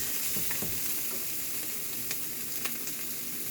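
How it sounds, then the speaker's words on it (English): Mushrooms cooking down in a pan, releasing liquid, give a steady soft sizzle and hiss with a few faint crackles, low and close with no talking. "This is mushrooms cooking right down."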